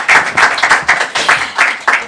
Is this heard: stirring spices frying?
no